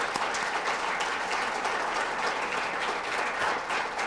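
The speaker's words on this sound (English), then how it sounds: "If we can give a round of applause for our speakers and for our moderator," An audience at a water conference Q&A applauds the speakers and moderator, continuous dense clapping from a room full of people, moderately loud and even, with no talk over it.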